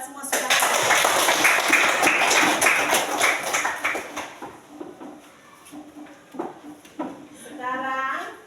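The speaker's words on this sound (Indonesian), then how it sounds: "Tepuk tangan kita semua sudah." Schoolchildren in an Indonesian primary school classroom clap together in a dense burst of hand claps mixed with children's voices, and the clapping thins out into scattered taps and chatter.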